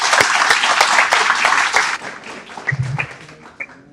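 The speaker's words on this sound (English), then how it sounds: "Please give her a big round of applause." A graduation ceremony audience gives a burst of loud, dense applause that fades out after about two seconds, leaving a few scattered claps and quiet room noise.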